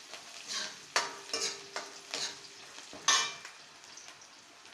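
Sprouted mung beans and vegetables fry and sizzle in a pan while a spatula stirs them in repeated scraping strokes, with a few sharp clinks against the pan.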